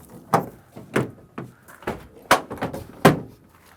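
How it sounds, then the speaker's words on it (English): Rear doors of a work van being opened, a series of heavy clunks and latch knocks spaced unevenly, close and fairly loud, with no talking. "And then we just open the doors."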